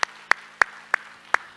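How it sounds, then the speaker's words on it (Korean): During a church service, five sharp, separate handclaps ring out at a roughly even pace, each crisp and close with quiet gaps between them. "우리 하나님께 영광의 박수합시다"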